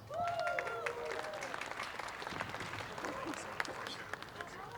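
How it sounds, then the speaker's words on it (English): An audience applauds speakers about to talk on Scrypt mining, a modest patter of claps under crowd murmur with some voices talking over it. "Give them a round of applause."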